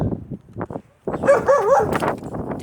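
A dog barks in short, loud bursts close by, with yips and a whine between them and kids talking around it.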